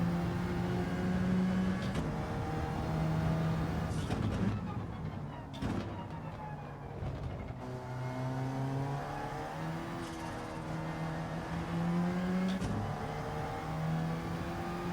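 Engine of a race car in Gran Turismo 7 revving and shifting through a lap, its pitch repeatedly climbing and dropping in steady sweeps, loud and continuous.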